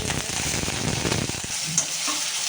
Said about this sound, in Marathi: लसण जिरे आणि मोहरी याची फोडणी देऊन घ्यायची